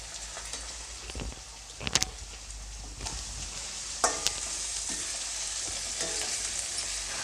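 A turmeric and tamarind mixture is stirred in a hot pan for avarekalu chitranna, with a steady soft sizzle and a few sharp scraping clicks of the spoon against the metal. It is heard close up and fairly quiet.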